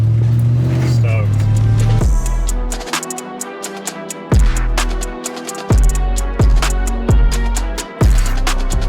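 A Toyota Terra Tundra truck fitted with a full roll cage and front bumper drives off with its engine loud and close, revving in repeated bursts that rise and drop, with brief pauses between pulls.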